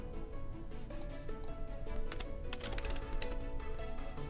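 A computer keyboard being typed on to enter a store name, a quick run of light clicking keystrokes in a quiet room, close and fairly soft.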